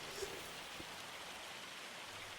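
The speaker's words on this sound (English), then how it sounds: "The hail has stopped." Hail patters steadily on fields in the Farming Simulator 25 video game, a faint, continuous dense rattle like heavy rain with a couple of soft thuds.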